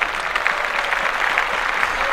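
Clapping sounds during a casual sports podcast conversation in a small room. The claps fall in a loose, regular rhythm of close, moderately loud bursts, with no speech over them.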